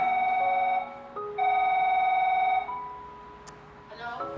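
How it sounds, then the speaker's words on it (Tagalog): A telephone rings loudly and nearby in a reality-show house, two long electronic tones separated by a short pause, followed by quieter background noise. "matapos marinig ang ring ng telepono"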